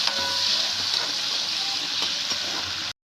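Small onions sautéing in a pan for coconut-roasted chicken, a dense continuous sizzle heard up close with faint stirring, ending abruptly, no voices.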